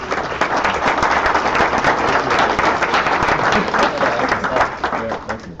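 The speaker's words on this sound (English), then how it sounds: "let's have another round of applause for our" Enthusiastic audience applause closing a data sharing session at a Chicago conference before lunch, loud, dense clapping sustained for nearly six seconds in a full room.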